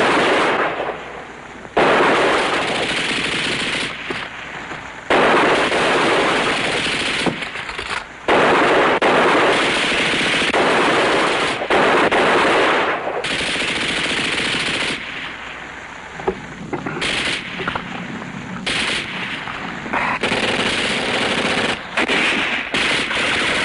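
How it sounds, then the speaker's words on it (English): Machine gun fire in a wartime combat drama battle scene, loud sustained bursts of rapid automatic shots broken by short pauses, alongside occasional louder blasts, with no talking. "Machine gun."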